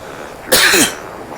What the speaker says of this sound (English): Sorry about coughing in your ear there.